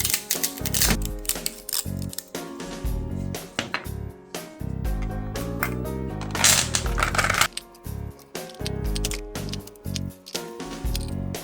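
A Flashforge Adventure 3 FDM 3D printer prints a battery case, its rapid mechanical clicking and stepping running throughout alongside layered background music.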